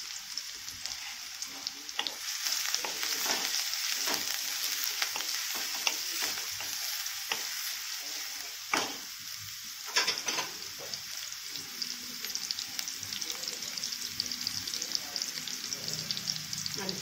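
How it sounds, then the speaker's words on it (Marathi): Onion and garlic sautéing in a pan make a loud, continuous sizzle, with occasional stirring scrapes and clinks. No one speaks. "आपल्याला हे थोडं परतून घ्यायचं आहे आणि याच्यातच आपल्याला कांदा टाकायचा आहे"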